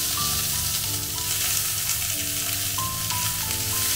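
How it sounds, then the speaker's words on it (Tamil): Curry leaves crackle and sizzle in hot oil right after mustard seeds have popped, tempering for a bitter gourd dish; a steady close frying hiss runs throughout with a faint tonal melody in the background. "இது கடுகு வெடித்த உடனே கொஞ்சம் கருவேப்பிலை."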